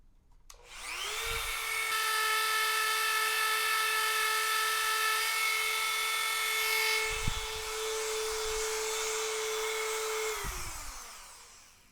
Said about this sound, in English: I do like to take a brass wheel and clean that up a little bit.